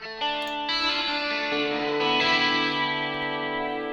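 A distorted, sustained electric guitar-like tone runs through a bright ClearCoat reverb effect, chords shifting a few times and ringing with a shimmering wash, loud and alone without talk.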